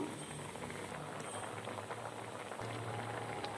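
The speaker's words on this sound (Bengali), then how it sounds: "মুসুরির ডাল হচ্ছে, দেখতে থাকুন" Lentil dal with hog plum (amra), salt and turmeric simmering in a cooking pot, giving a steady, soft bubbling hiss throughout, quiet and continuous with no talking.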